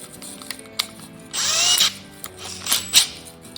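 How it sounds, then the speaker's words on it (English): A power drill whirs at low speed in several short bursts, rising in pitch briefly, with mechanical scraping between runs and no talking. "Now I've got our drill on a low speed here."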